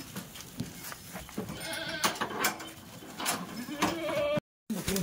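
Ten goats packed into a vehicle bleat over and over, loud and close, their calls overlapping in a cramped space, with a short dropout near the end.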